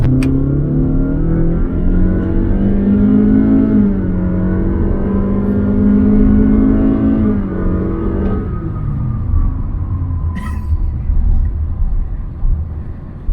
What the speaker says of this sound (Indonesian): Dan kita ditemani sama suara raungan mesin yang kalau boleh gue bilang merdu sih.